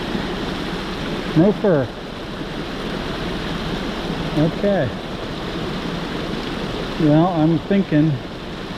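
Fast-flowing creek water in the Kentucky woods rushes in a constant close roar, carrying debris, with someone speaking briefly in short bursts over it.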